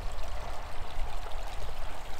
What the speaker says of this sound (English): Can you hear the water running?